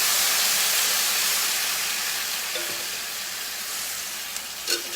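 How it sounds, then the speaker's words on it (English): Stock poured into a hot sauté pan sends up a loud, broad hiss of steam that slowly fades, with a couple of small metallic clinks near the end and no talking. "So I got a little stock here, and I'm hitting my pan with just some stock."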